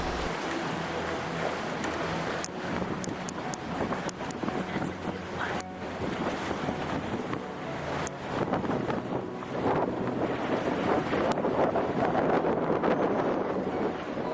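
Continuous rush of wind and water splashing against a moving boat, with engine rumble and occasional knocks and buffeting gusts on the microphone.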